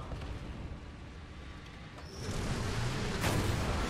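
Gunfire is aimed at the player in the War Thunder simulator battle game, with a low rumbling background and a couple of heavier booming shots near the end.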